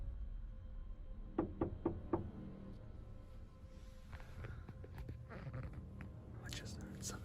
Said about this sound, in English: Whoever was out there wasn't knocking. They were actively trying to open the door.